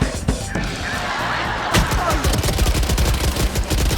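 Rapid bursts of gunfire in the tactical shooter Valorant, loud dense cracks in quick succession over game ambience, with a brief muffled voice.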